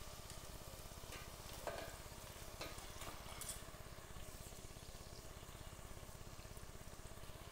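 Cleaned chicken pieces fry in a pan for biryani with a continuous close sizzle, a bubbling undertone and a few brief stirring scrapes, the level steady throughout and no speech.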